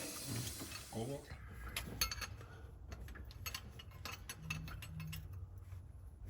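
Small metallic clinks and ratcheting clicks of a wrench tightening a leaking fuel return line fitting on the back of the head of a PDI performance Detroit diesel engine, faint and intermittent, close by.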